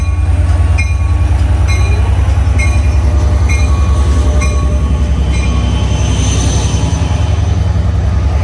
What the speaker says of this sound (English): the set headed into the yard.